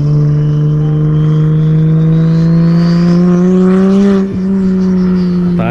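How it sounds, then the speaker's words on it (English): A BMW 335i fitted with a big turbo revs loudly and steadily, its engine tone climbing gradually over several seconds with a turbo whine rising above it, then dipping briefly before holding high, close and continuous with no talking. "Turbo so loud, bro."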